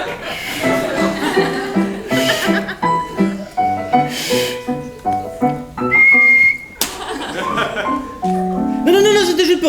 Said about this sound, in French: c'était juste pour tester le sifflet